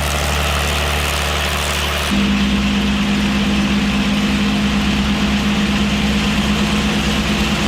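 A P-51 Mustang aircraft engine running up to 2300 RPM with the propeller being cycled: a loud, steady engine drone that shifts and changes pitch abruptly about two seconds in, then holds an even, continuous roar.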